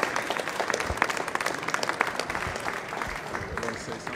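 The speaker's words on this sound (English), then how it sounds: "please give him an applause, right? Standing ovation." A standing ovation at an academic medical society tribute, a loud, sustained roar of many hands clapping with sharp individual claps standing out, steady from start to finish.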